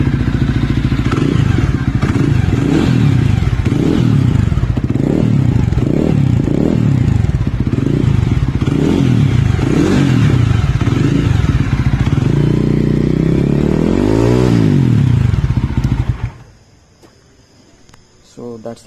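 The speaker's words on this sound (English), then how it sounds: "and you heard the exhaust note" A Jawa Scrambler 42 motorcycle, standing in neutral with modified silencers, revs repeatedly in loud rhythmic surges close up, then a final rising rev before the engine cuts to near silence.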